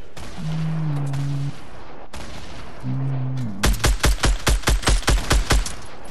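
Rocket explosions in a video game arrive as a rapid, evenly spaced string of about nine loud blasts, preceded by short electronic tones.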